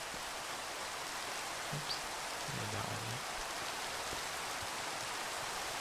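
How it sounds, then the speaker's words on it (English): Steady, even hiss of rain falling in the video game Minecraft, filling the whole stretch at a constant level, with a voice briefly speaking over it. "And of course it's raining again."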